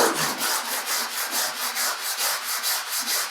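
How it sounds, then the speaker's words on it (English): Rhythmic wet sanding of a terrazzo coaster with wet sandpaper, a gritty rasping rub repeating in steady back-and-forth strokes, close and fairly loud with no talking. "we just start sanding it down"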